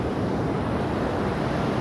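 Ocean waves washing up on the shore at Venice Beach, a steady, close, broadband rush with wind noise across the microphone and no voices.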